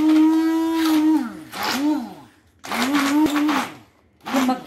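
A kitchen blender whirs through mustard greens with a spoonful of maize flour, its motor whine rising and dropping in pitch across several bursts separated by short pauses.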